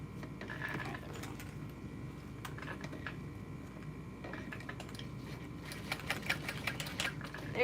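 A sewing machine stitches a backpack in quick rattling bursts, running steadily and close, then speeding into denser, louder clattering toward the end.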